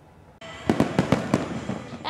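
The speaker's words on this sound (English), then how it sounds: "As fireworks rang out across our area in celebration for the 4th of July weekend." Fireworks bursting during 4th of July weekend celebrations: a steady rumble, then about five sharp, loud bangs in quick succession, followed by softer crackling pops.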